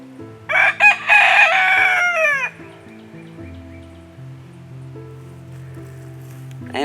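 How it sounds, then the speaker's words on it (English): Backyard chickens kept in cages, including young pullets, crow and cluck loudly for a couple of seconds. Softer clucks and low, steady background tones follow. "These are pretty little pullets."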